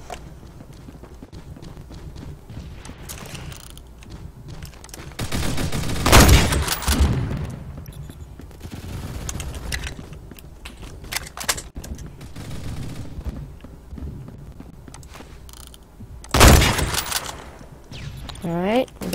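Sniper rifle fire in the Roblox game Phantom Forces: two loud, sharp shots land roughly ten seconds apart over constant in-game background noise, with a person talking at intervals.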